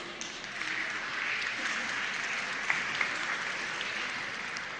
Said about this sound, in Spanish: A ustedes un aplauso.